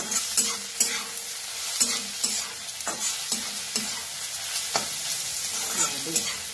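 Okra with fresh coriander fries in a pan for masala bhendi, a continuous sizzle broken by frequent sharp scrapes and knocks of stirring, fairly close and moderately loud.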